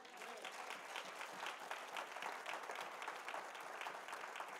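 A church congregation claps in praise of the Lord, a dense, even wash of many hands applauding together at a moderate, steady level for several seconds with no speech.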